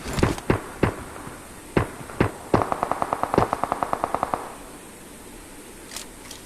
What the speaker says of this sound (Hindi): इतने में मुझ पर फायरिंग होती है।